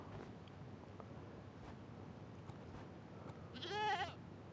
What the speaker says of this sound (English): And here's a goat.